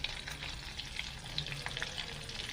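Cumin seeds and red chili hit hot butter in a pan, giving a steady close sizzle with light crackles and soft stirring scrapes throughout, no voices.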